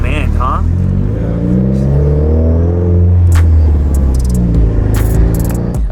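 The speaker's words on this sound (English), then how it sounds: "this was my brother Rob's 2020 WRX on the Stage 2 full Grimmspeed power package" A 2020 Subaru WRX running a Stage 2 Grimmspeed power package rumbles and revs at close range. The engine's low drone rises and falls throughout while people keep talking over it.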